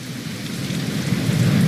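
Steady heavy rain falls with a low rumble of thunder swelling underneath in the fantasy adventure game The Dark Eye: Chains of Satinav, the storm noise continuous and growing slightly louder, with no voices.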